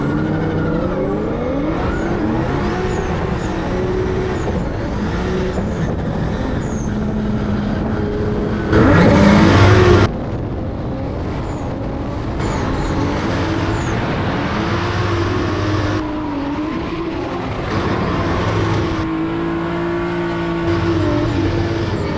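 A drift car's engine revs hard through a spin at the Baltic Drift Grand Final, sustained high-rpm roaring with a sharp loud burst midway and shifting whine as it slides, then settling back to steady revving.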